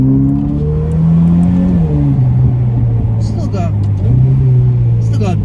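A Ferrari engine revs after downshifting a few gears, a loud steady drone with shifting pitch and brief dips between gear changes, heard from inside the car.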